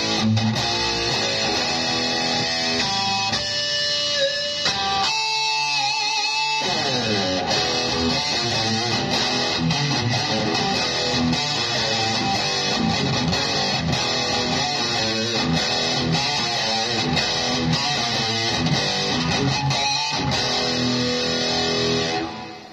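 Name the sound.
electric guitar through Roland Cube 15X amp with hall reverb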